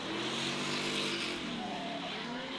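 A drift car under heavy throttle on a drifting run, engine roaring steadily with a shifting pitch and tire hiss, loud and sustained from start to finish.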